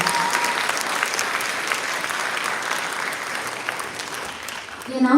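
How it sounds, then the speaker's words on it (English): A recital audience applauds dancers and an orchestra after a dance performance, sustained dense clapping from a large crowd that carries on steadily before starting to fade at the end. "Please give the entire crew and the dancers a big round of applause"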